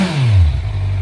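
A 2019 Kawasaki 1000SX motorcycle on factory exhausts gives a brief, loud, close engine rev whose deep note drops and settles into a low idle rumble.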